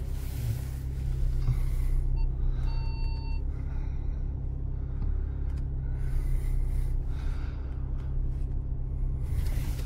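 A truck reversing gives off a short run of clear electronic backup beeps over a steady low engine rumble, with no talking.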